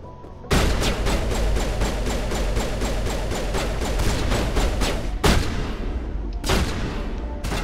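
Automatic weapons fire hammers away in a firefight in the video game Mass Effect, a fast, continuous rattle of close, loud shots, briefly cut short twice by heavier blasts near the end.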